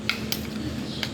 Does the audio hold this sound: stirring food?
yes